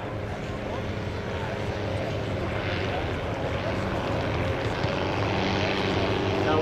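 A WWI triplane with a rotary engine flies at the Avalon Airshow 2015, its engine a continuous droning buzz that swells gently as it passes, with faint background voices beneath.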